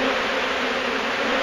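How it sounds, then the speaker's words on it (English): Honeybees buzz loudly and steadily from an aggressive hive being removed in Wellington, Florida, a dense, close swarm drone that holds without pause. "As you can see, as far as you can see in there are bees."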